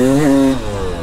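A KTM dirt bike engine idles nearby, with harmonic revving that rises slightly and then settles steadily in a short, loud burst.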